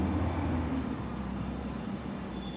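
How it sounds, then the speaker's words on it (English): A truck rumbles past in a low, steady drone that fades slightly over a couple of seconds, with no voices. "We'll wait for the truck to go by."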